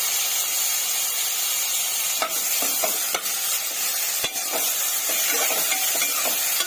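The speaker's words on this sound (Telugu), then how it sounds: "ఇవి కూడా ఫ్రై చేసుకుందామండి." Chopped tomatoes fry in a pan with carrot pieces for semiya carrot upma, giving a loud, steady close sizzle and hiss broken by a few sharp scrapes of stirring, with no speech.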